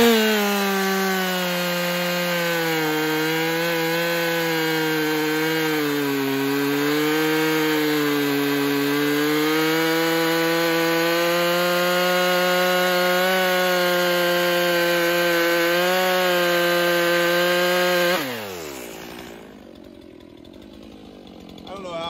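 A Stihl MS362 chainsaw cuts through wood with a loud, close, sustained engine snarl that shifts pitch slightly as it bites, running about eighteen seconds before dropping to a lower idle.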